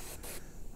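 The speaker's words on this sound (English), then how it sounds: "we'll start by just kind of testing this out here on a paper towel, just see how it's spraying" An AirCobra airbrush fires a short hissing burst of spray onto a paper towel, a brief close, airy puff that cuts off quickly, heard alone with no talking.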